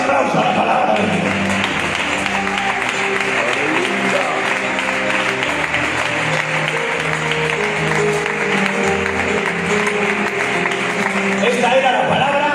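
A church congregation applauds after a sermon, with sustained, moderately loud clapping that fills the hall for about twelve seconds. Voices and tonal sound carry underneath.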